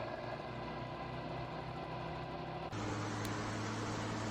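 An old combine harvester's engine runs steadily after startup at a Polish former state farm, a loud continuous mechanical drone with a brief dip and a rise in pitch and level partway through as it is revved.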